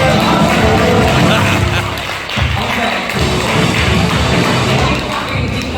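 Guests at a Korean first-birthday party (doljanchi) clap in a dense, sustained burst of applause filling the banquet room, with crowd noise throughout.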